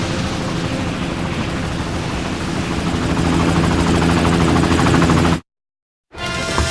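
Helicopter in the PlayStation game Chase the Express, a loud steady rotor and engine drone that fills the scene, cuts out briefly near the end, then returns.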